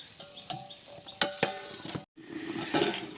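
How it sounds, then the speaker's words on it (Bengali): A lid is set onto a kadai of simmering aar and tengra fish curry with potatoes and whole tomatoes: a few sharp metallic clinks over a soft bubbling sizzle, then a brief cut and the muffled simmer continuing. "ঢাকা দিয়ে ফুটিয়ে নেব।"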